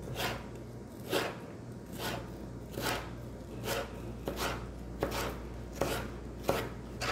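Knife cutting through a baked homemade chicken pizza on a board, about seven firm, evenly spaced chops with a soft thud under each, close and clear with no talking.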